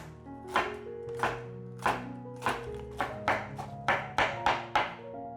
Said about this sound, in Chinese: 现在把油菜切碎